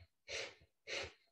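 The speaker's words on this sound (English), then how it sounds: "let's begin breath of fire, panting like a dog through the nose." Two forceful, breathy bursts of air through the nose in breath of fire yoga breathing, each a short rushing puff with a softer intake between, close and quiet.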